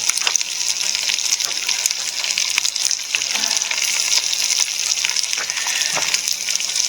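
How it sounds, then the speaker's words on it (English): Broth pouring into a pot of browned bison stew cooked over a wood fire, a steady rushing gush of liquid with faint sizzling, continuous and close for the whole stretch. "now we're ready to add some of the broth and the vegetables"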